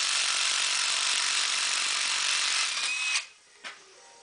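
A DeWALT DCF886 impact driver runs loud and close with a continuous high whirring drone, then stops abruptly, followed by one short final burst.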